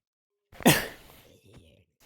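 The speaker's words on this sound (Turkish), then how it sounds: "öksürük tuttu arkadaşlar kusura bakmayın" A single sharp cough bursts out close and loud, followed by a short raspy tail and a faint second catch, heard during a Minecraft survival gaming session with no talking.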